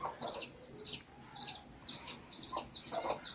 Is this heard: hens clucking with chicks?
yes